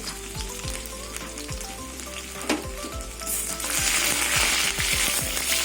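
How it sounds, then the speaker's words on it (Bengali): Chopped garlic sizzles in hot mustard oil in a kadai, a steady close crackle with occasional stirring scrapes that grows louder and brighter midway. "রসুন কুচিগুলো একটু লাল লাল করে ভেজে নেব"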